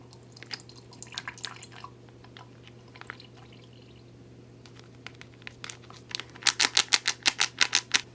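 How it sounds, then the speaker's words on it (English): Soda pours and trickles into a chamber in short bursts after some quiet rustling, ending in a run of bright, rhythmic splashes and fizzing drops close by. "And we'll pour into our chamber."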